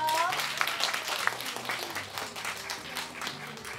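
A church youth worship congregation gives a short round of clapping for a member moving away, a fairly quiet, scattered patter with a voice talking over it.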